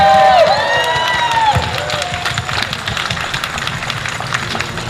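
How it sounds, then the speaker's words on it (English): An outdoor crowd at the California State Capitol in Sacramento cheers and applauds for the Lieutenant Governor at a Unity Against Hate rally, with loud whoops and whistles at first, then steady clapping that gradually fades. "let's give another round of applause for our Lieutenant Governor"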